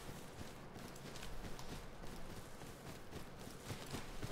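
Horse hooves thud faintly in an uneven walking rhythm in the video game Rust, soft and somewhat distant beneath a steady wash of background noise, with no voices.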